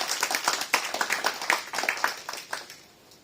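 A church congregation at a Sunday service claps to welcome a guest, a dense run of rapid overlapping handclaps that rises and then tapers off near the end.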